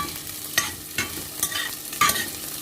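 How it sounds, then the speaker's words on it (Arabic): Rice stirred and browned in a stainless steel Tupperware pot, a soft continuous sizzle broken by a few scraping spoon strokes, close and steady with no voices. "انا بحمر جزء وبحط جزء تاني بدون تحمير"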